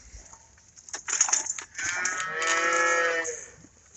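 Calves moo in a calf barn, a close, loud, drawn-out bellow following a few rustling knocks and short grunts.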